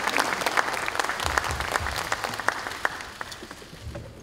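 Applause from a room of lawmakers at a Democratic Party caucus meeting, welcoming the presidential office's policy chief: steady, dense clapping from many hands that holds through the whole stretch.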